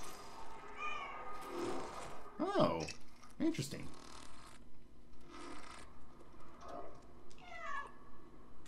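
In a cat video game, a cartoon cat meows several times in short rising and falling calls, scattered between soft shuffling sounds, while a person talks briefly over it and also meows in imitation.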